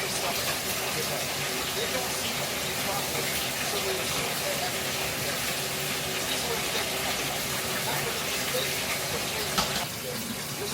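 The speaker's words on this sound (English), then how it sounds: "Now with tissue, you flush it." A toilet flushes with tissue in the bowl, a loud, steady rush of water that runs unbroken for about ten seconds and eases slightly at the very end.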